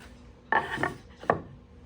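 A saw cuts a wooden board into one-inch blocks, heard as two brief, close rasping strokes separated by a short pause.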